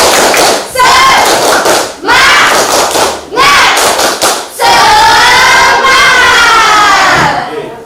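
A seated class of students performs a tepuk semangat, a spirited group clapping chant, with loud shouted voices and bursts of rhythmic hand claps repeating in several close, energetic phrases.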